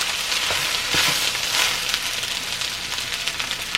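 Rice frying in hot oil in a pan for shrimp fried rice, giving a steady, close sizzle with scattered crackles and pops throughout, no voices.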